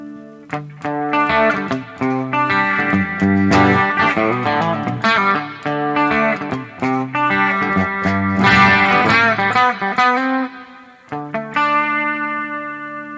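Electric guitar notes and chords through a Harley Benton DNAfx Git Pro, drenched in bright, shimmering plate reverb, with tails ringing out between phrases and no voices.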